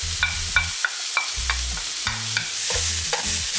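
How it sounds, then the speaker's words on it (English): Garlic sizzles in a hot pan while a utensil scrapes and stirs in repeated strokes, with low rhythmic music underneath. "Toss in half the garlic."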